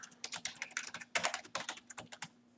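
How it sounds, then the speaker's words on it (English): Rapid, uneven keystrokes clatter on a computer keyboard, a burst of hard typing with a few heavier key strikes, close and fairly quiet. "I can hear the typing."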